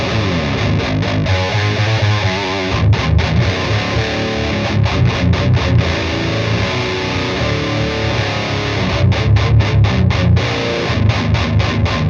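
Heavy, dirty distorted electric guitar played through a Sun Model T amp preset, with loud, thick riffing, a huge bottom end and rhythmic palm-muted chugs broken by short stops, heard alone.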